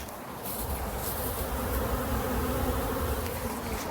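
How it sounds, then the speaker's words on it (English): Dense, steady buzzing of many honey bees flying around their hives during a strong nectar flow, a continuous close insect drone that swells slightly after the first half second and holds at an even level throughout. "Some really decent bee flight going on."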